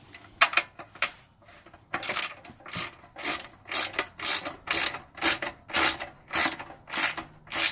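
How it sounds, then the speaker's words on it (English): A 10mm wrench tightens bolts on a Coleman MiniBike, making a run of a dozen or so rhythmic rasping ratchet strokes, close and fairly loud, with no talking. "it's a 10mm to tighten them back up"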